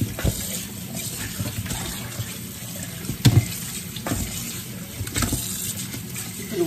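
Running tap water splashes steadily while pork cartilage is rinsed in a sink, with a few louder sloshes and clatters near the middle; no one speaks.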